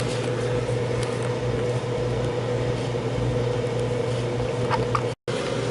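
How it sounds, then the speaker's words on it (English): A microwave oven hums steadily while melting wax in a Pyrex cup, a constant loud drone with a mechanical whir that cuts out briefly near the end. "Now I'm going to put it in the microwave and see if I can melt this wax in the microwave."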